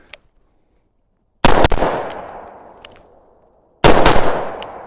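Handgun shots fired in quick bursts during a shooting drill: a rapid cluster of sharp, loud cracks, a long echoing decay, then another burst of rapid shots, with no talking.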